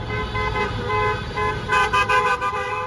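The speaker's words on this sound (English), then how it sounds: "Those cheers and honking horns erupted in San Antonio Tuesday night" Car horns honk repeatedly amid street celebration noise in San Antonio on a Tuesday night, with a steady traffic rumble and a burst of rhythmic toots near the end; cheering is not clearly distinct.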